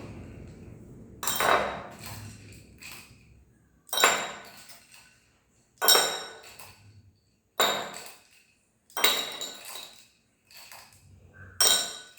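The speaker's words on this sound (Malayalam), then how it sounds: "ഐസ് ക്യൂബ് ഇടാനാണ് പറയുന്നത് കേട്ടോ." Ice cubes dropped one by one into a glass holding 50 ml of Grant's whisky give about six sharp, ringing clinks spaced roughly two seconds apart. They are close and clear, with no talk.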